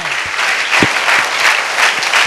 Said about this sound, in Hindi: तालियां बजाओ उस कदूस के नाम की